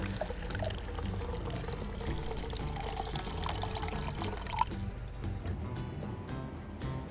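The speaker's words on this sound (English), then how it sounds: "focusing on opening the tap until the pitcher was full" Tap water filling a plastic pitcher from a water dispenser indoors, a steady continuous stream with a faint rising tone as the pitcher fills, alone and fairly close.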